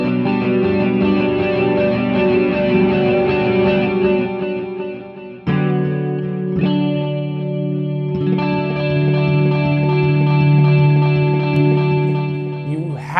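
Electric guitar through a Boss DD-6 digital delay pedal on a clean amp channel sounds chords and notes with repeating echoes and a shimmering modulated tail, with sharp chord stabs around the middle and sustained layered repeats.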